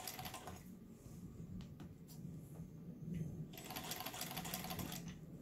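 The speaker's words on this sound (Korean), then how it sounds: "이 기계는 핸드미싱이기 때문에 손으로 돌려서 박음질을 하겠습니다" Old Lion hand-cranked sewing machine stitching, a fast rhythmic mechanical clatter of the needle and gears, close and steady, briefly easing off in the middle before picking up again.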